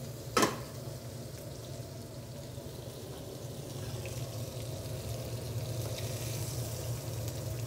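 Zucchini and garlic fry in butter in a pan, giving a steady, close sizzle that holds through the whole stretch after a brief sharp knock at the start, with no talking.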